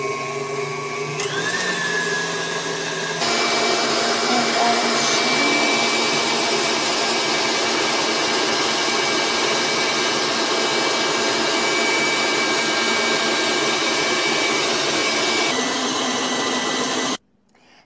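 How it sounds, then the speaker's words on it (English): An electric mixer whirs steadily at medium-high speed, beating egg yolks with sugar in a bowl, a loud continuous motor drone holding for over fifteen seconds before cutting off, with no voices. "we're going to add in the egg yolks, and we're going to mix this for about 30 seconds on medium-high"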